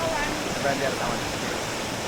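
Waterfall heard from its top, near the foot of Mount Rinjani on Lombok: a steady, dense rush of falling water fills the scene, with someone talking over it briefly.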